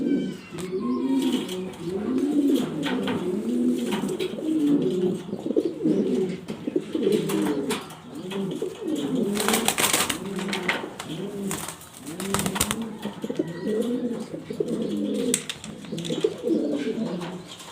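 German Beauty pigeons in Andalusian colour coo steadily and close by, with soft rolling calls repeating throughout and overlapping into a continuous murmur.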